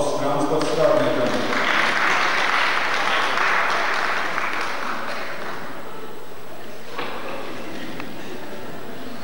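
Audience applause in a hall at a theatre comedy performance, a dense sustained clapping that swells early and slowly thins toward the end, with faint voices mixed in.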